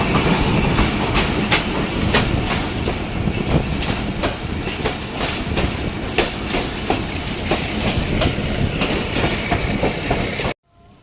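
The Sir Syed Express passenger train passes close by at speed, a loud continuous roar with rapid clickety-clack of wheels over rail joints, cutting off abruptly at the end.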